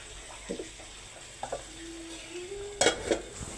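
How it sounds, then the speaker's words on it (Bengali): Spices and chopped onion sautéed in a pan for a fish roe, tomato and bottle gourd dish, with scattered scraping stir strokes over a soft sizzle and a louder clatter near the end. "এবার মশলাগুলো কষে নিব"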